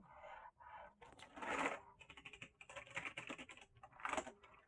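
Fingers type on a computer keyboard with a detachable wrist bar and programmable keys, tapping in quick irregular bursts and short pauses, close and clear.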